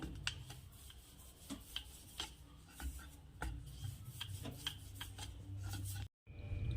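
Samosa dough is rolled out thin with a rolling pin, giving soft, quiet rubbing strokes with faint irregular taps and clicks against the board, close by.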